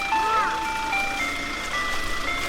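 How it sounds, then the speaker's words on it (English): An ice cream truck's electronic jingle plays a steady, bright melody at a festival gathering, fairly loud and continuous with faint crowd murmur beneath. "It kind of stopped when there's an ice cream truck,"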